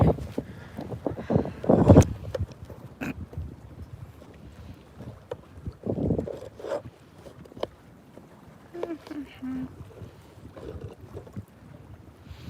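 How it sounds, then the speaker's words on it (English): Intermittent wind buffeting a microphone outdoors in Chicago, with low thumps and rumbles coming in bursts, plus some faint speech in the background. "It's a bit windy."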